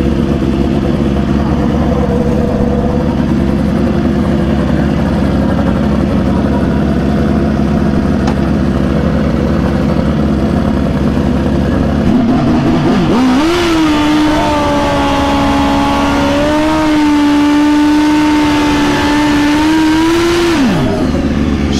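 Suzuki GSX-R 1000 turbo drag bike at a drag strip: loud continuous engine drone, then from about twelve seconds a sharp rising rev that holds at a high whining pitch for several seconds before cutting off, dense and close throughout.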